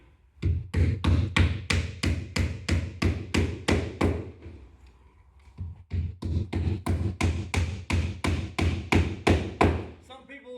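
Repeated hammer blows during installation of a single-hung exterior window, a fast, steady run of loud, close taps that pauses briefly and then resumes at the same even pace.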